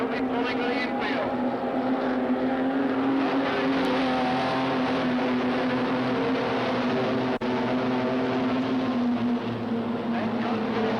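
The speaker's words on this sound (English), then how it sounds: "as they come roaring down the front straight into turn 1" Race cars roaring down the front straight at Redline Raceway in 1988, a steady loud engine drone that continues throughout, with commentary under the noise.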